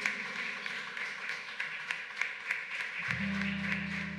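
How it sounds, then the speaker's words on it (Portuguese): A church congregation claps in a steady rhythm, faint and somewhat distant, and a sustained low musical tone enters near the end. "você desse uma salva de palmas ao Senhor Jesus"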